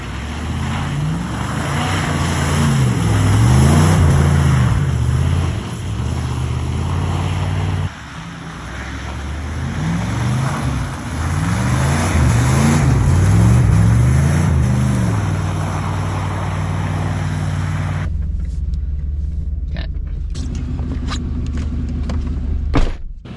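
An RC car rips laps around a muddy, snowy backyard track, its motor whining and rising and falling in pitch as it passes close and pulls away, then dropping off near the end.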